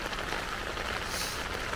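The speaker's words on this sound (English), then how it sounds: "It's been raining pretty much since midnight." Steady rain falling at a riverside campsite on a canoe trip along the Glenelg River, a soft continuous hiss with no pauses and no voices.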